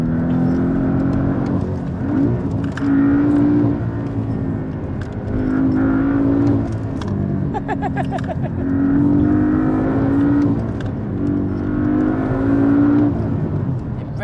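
A hybrid-turbo, methanol-injected Porsche 718 Cayman accelerating hard, its engine note climbing and dropping in several repeated surges through the gears, loud and close throughout.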